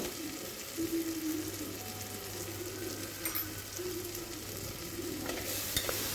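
Tomato rice mixture with onions, green chillies, cumin, coriander powder and turmeric stirred in a pan, a steady close frying sizzle with light scraping of the spoon and a low background hum.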